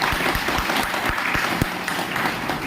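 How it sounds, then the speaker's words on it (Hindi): An audience at a business seminar claps together in a loud, dense burst of applause, with sharp individual claps standing out over the steady patter for the whole stretch. "एक जोरदार तालियां इन सब लोगों के लिए होनी चाहिए।"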